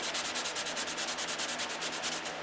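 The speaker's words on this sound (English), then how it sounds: "I'm going to hit this with DC 540, sand it out, and see if they go away." Repetitive back-and-forth sanding strokes on an aircraft skin during an N-number repair after DC 540 is applied, steady even scratching at about eight strokes per second, close and alone.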